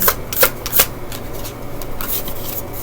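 Tarot cards riffled and shuffled by hand, a slightly sticky deck, giving a few crisp bursts of flicking followed by softer steady rustling, close and alone without talk.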